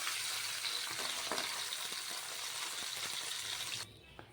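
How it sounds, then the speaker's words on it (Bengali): Chapila fish sizzles steadily in hot oil in a pan as the pieces are flipped, with a few soft clinks under the hiss before the sizzle drops away near the end. "এভাবে তুলে উল্টে পাল্টে দিচ্ছি উল্টে পাল্টে দুটো পিঠটাই ভেজে নিই"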